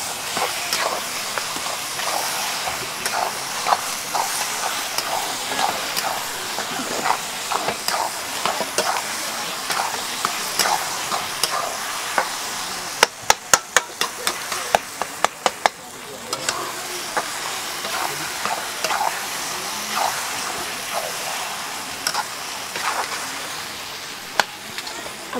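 Eggplant being stirred and fried for bharit at a busy food stall on Sinhgad, a loud continuous sizzle with frequent sharp clatters of a ladle against the pan.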